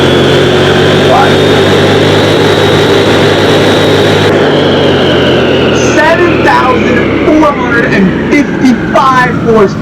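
A heavily modified Mustang nicknamed Satan's Scream, tuned to about 7,500 horsepower in Car Mechanic Simulator 2021, revs hard toward 8,000 RPM with a loud, steady high-pitched engine howl that shifts tone partway through as pitch sweeps pile up.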